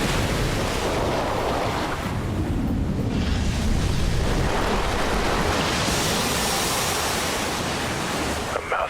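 An ocean wave splashes in a 5 gum ad, a loud continuous rush of surf that swells and crashes, with a windy roar and no talk over it.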